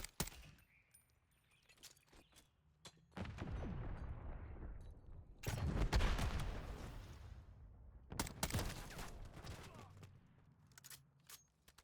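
M13B rifle fired in a video game, several sharp bursts of gunfire with booming tails, spaced a few seconds apart amid scattered clicks and game effects.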